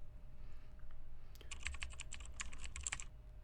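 Rapid bursts of typing on a computer keyboard while entering spreadsheet headers, crisp close keystrokes clustered in quick runs over a quiet background hum, no talking.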